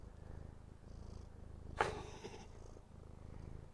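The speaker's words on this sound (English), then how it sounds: "Yeah, you hear that little purr?" A cat's soft, steady purr rumbles low and close, with a brief sharper noise in the middle.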